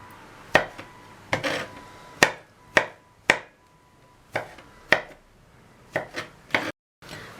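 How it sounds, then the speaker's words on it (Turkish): A knife chopping eggplant into cubes on a board, about a dozen sharp close thuds in an uneven rhythm, with no talking. "İçinden çıkan patlıcanlarımızı da bu şekilde küçük küçük küp küp doğrayalım."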